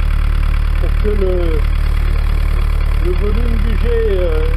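The inboard engine of a Bavaria 38 sailboat runs steadily while its cooling circuit is flushed, giving a constant low mechanical drone throughout as someone speaks over it.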